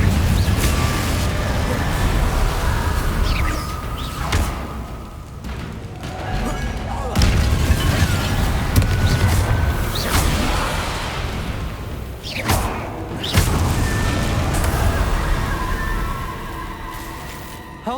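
Confringo explosion spells blast repeatedly in Hogwarts Legacy, a series of heavy thuds and bursts with whooshing tails spaced several seconds apart, loud, with voices and game clutter between the blasts.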